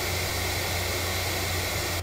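Three oscillator sweeps from an FL Studio synth play with the kick muted: a steady, hissing noise-like tone with a low hum beneath, sustained and fairly quiet throughout.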